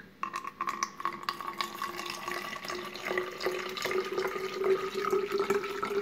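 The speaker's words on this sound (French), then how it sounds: "Donc je vais verser de l'eau dedans" Cool water poured from a tap or jug into a glass, a steady bright trickling stream with a rising pitch as the vessel fills, close and continuous for about six seconds.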